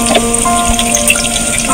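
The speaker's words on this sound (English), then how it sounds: "let my onions fry to golden brown" Chopped onions with ginger and garlic paste frying in a pot, giving a close, steady sizzle with bubbling and spattering throughout, no voices.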